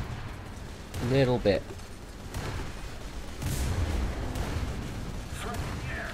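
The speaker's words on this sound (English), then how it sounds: "We'll fire off the 88." A ship's 88 mm gun fires in the War Thunder naval battle game, a few muffled booms and rumbles spread across the clip beneath someone talking briefly.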